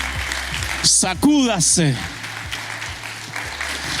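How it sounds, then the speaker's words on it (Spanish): Church congregation clapping during a Spanish-language sermon, continuous applause under a preacher's loud, excited calls that rise above it midway. "Dale el aplauso a Cristo"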